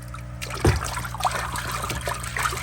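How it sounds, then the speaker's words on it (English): Water trickles and splashes while an aquarium filter intake strainer from a planted tank is rinsed out, a short close run of running water. "I'm just going to rinse out all the stuff out of the intake strainer real quick"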